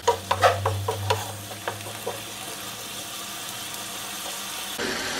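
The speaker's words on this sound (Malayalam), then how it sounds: "ഇപ്പം നന്നായിട്ട് തിളച്ച് വരുന്നുണ്ട്" Jackfruit seeds in salted water come to a boil in a pan, with a few clinking stirs at first, then a soft steady bubbling simmer that continues quietly.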